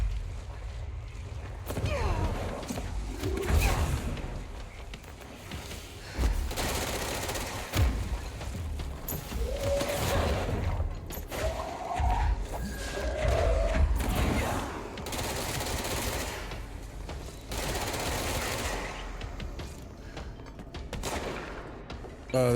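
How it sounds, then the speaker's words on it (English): Bursts of gunfire and blasts from exploding enemies in the video game Control crackle in irregular volleys, mid-distance and fairly loud, with scattered mechanical clanks between them. "they explode apparently when you shoot them"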